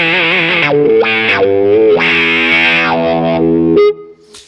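A distorted electric guitar through a wah pedal in a Tom Morello style preset holds a loud sustained tone, sweeping repeatedly between dark and bright, then cuts off abruptly into a faint tail.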